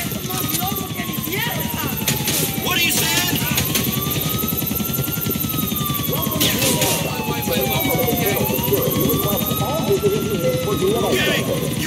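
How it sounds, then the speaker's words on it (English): A police helicopter hovers overhead in the video game GTA IV: The Lost and Damned, its loud, steady rotor whir filling the scene. Gliding engine tones rise and fall and scattered effects come and go while voices talk over it. "The assholes have set a fucking chopper!"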